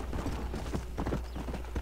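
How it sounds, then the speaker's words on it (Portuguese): Horse hooves clip-clop steadily and close in the Red Dead Redemption video game, a continuous trotting rhythm with no talk over it. "Olha esse cavalo, galera, que coisa sensacional."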